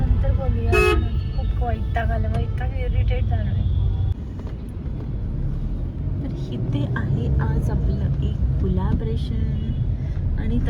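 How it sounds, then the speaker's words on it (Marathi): A car horn toots sharply a couple of times near the start amid steady road traffic noise, with people talking over it, near a mall. "तिला मी हॉर्न दिला ना मध्ये बसून"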